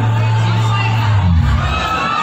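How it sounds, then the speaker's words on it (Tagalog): Large crowd at a Duterte political rally in the Philippines shouting and cheering loudly, a dense roar of voices with rising chant-like shouts. "Isang hiyawan Duterte! Duterte!"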